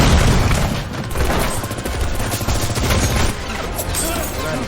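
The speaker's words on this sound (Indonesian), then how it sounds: "Bom meledak di luar gedung." In a film scene, a bomb goes off outside a building, and the dense roaring blast and rumbling chaos blend with rapid gunfire crackle, loud and continuous throughout.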